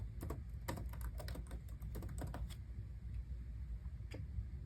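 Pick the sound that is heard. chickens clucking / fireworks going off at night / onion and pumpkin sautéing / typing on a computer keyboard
typing on a computer keyboard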